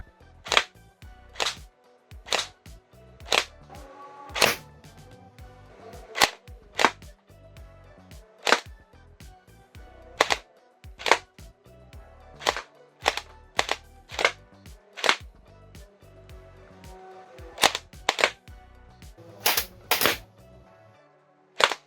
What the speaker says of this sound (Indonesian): cukup sekali tembakan, peluru sudah bisa tembus target kertas ini